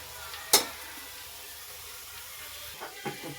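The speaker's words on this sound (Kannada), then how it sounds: "ಸ್ವಲ್ಪ ಹೊತ್ತು ಮಸಾಲೆ ಜೊತೆ ಹುರ್ಕೊಂಡು" Soya chunks and masala frying in a pan for green biryani, a faint steady sizzle with one sharp crackling pop near the start and a couple of softer stirring sounds toward the end.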